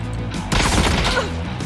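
A dense, continuous burst of automatic rifle fire from an AKM sprays in a video game match, loud and crackling for under two seconds with no talk over it.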